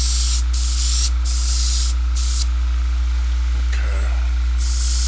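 Airbrush spraying paint in short bursts, a close hiss that starts and stops repeatedly over a constant low electrical hum.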